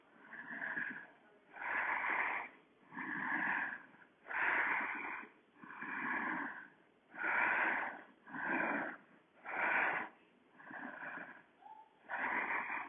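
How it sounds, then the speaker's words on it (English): Slow, deep breathing during a back stretch exercise, about ten long inhale-exhale cycles with an airy, wheezy rasp, close and steady, with no talk. "Breathing, 3 more deep breaths."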